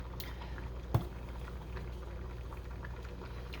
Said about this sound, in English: As you can see, my potatoes are still boiling.